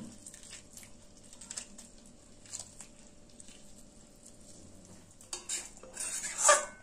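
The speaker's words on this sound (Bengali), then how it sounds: "এবার খুন্তির সাহায্যে লেবুর রসটা একটু ভালোভাবে পেঁপের সঙ্গে মিশিয়ে দিচ্ছি।" A spatula stirs lemon juice into papaya chutney in a pan, soft scraping and clinking strokes, quiet and intermittent, with a louder burst of scraping near the end.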